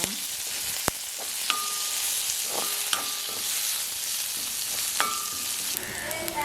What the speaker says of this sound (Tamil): பெருஞ்சீரகம் போடுவோம், வெங்காயம், பச்சை மிளகாய், கருவேப்பிலை, இது நல்லா தாளிப்போம்